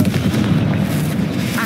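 Confringo fire-blast spell from the game Hogwarts Legacy, a dense booming explosion with rumbling low crackle lasting the whole short burst.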